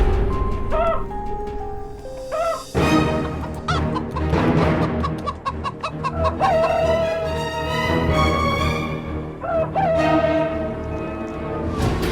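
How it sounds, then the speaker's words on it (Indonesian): A rooster crows loudly nearby, with hens clucking and other farmyard birds calling around it in a busy, continuous chorus. "Ayam sudah berkokok."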